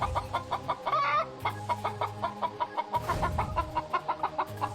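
A chicken clucks in rapid, rhythmic bursts close by, with a flurry of louder squawks partway through as it is grabbed.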